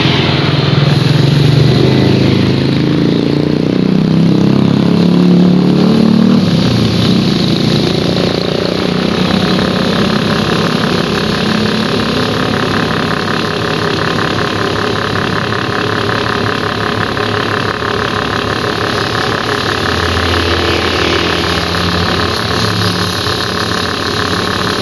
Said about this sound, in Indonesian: Biasanya kipas angin ini hanya untuk membantu agar apinya lebih besar ya teman-teman, atau arangnya itu lebih hidup agar cepat matangnya.